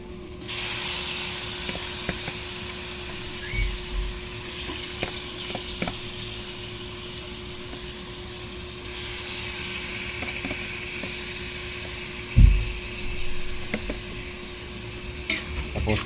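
Meat for menudo sizzles and hisses steadily in a hot oiled pan. The frying is close and continuous, with occasional clinks and stirring knocks and one sharper bump near the end.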